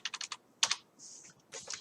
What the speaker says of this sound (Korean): F4키를 눌러서